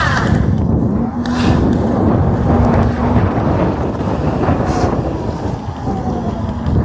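A 75 mph electric scooter roadster accelerates hard at high speed, with loud, constant roaring wind buffeting the microphone throughout and no clear motor sound.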